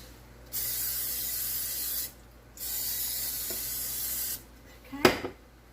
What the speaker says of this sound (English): spray some butter on it though